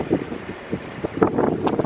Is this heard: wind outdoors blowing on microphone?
yes